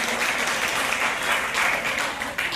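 Audience applause at an award ceremony: a steady, fairly close wash of many hands clapping that holds for a couple of seconds, then thins slightly toward the end.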